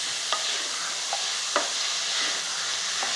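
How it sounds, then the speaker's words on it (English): Steady sizzle of meat frying in a pan while deglazing, with a few sharp clinks of a utensil against the pan scattered throughout. "You can hear the sizzle."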